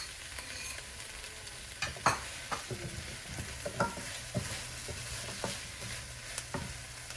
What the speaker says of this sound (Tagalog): Saan ko palang ihalo itong hipon, frozen na hipon.